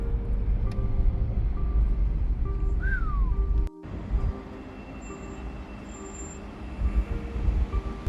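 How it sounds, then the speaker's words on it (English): Train rolling past in Denver, a loud low rumble of wheels on rail with a brief gliding squeal, then a sudden drop to quieter clatter and hum, plus a couple of faint high tonal whines as the cars go by. "And there's the train coming by right there."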